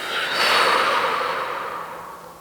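One long exhalation during a relaxing yoga session, a close, breathy whoosh that swells quickly and trails off gradually into quiet.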